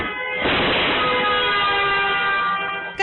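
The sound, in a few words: vehicle horn on highway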